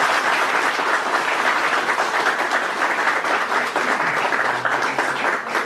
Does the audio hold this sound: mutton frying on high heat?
no